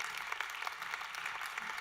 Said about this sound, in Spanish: Ese aplauso fuerte al Señor.